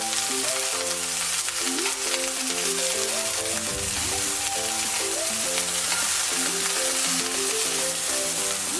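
Mushrooms, garlic and chili fry in oil with a constant loud sizzle and crackle, close up, under steady background music.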